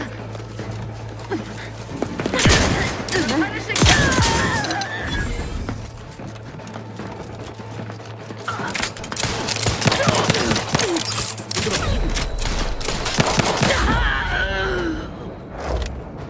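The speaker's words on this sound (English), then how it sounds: "They're shooting at me." Enemies open fire in The Outer Worlds 2, with bursts of sci-fi gunshots and loud mechanical clatter coming in waves around 2–4 and 9–14 seconds over a low steady game hum.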